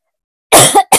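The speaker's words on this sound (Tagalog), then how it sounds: "Teka lang ang ubo ko." A short burst of coughing, one harsh cough followed quickly by a second brief one, close and loud after silence.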